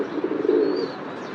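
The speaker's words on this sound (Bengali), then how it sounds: "এই হলো আমার কবুতর" Pet pigeons coo in a low, steady murmur, swelling in the middle and fading, heard close by with no talking.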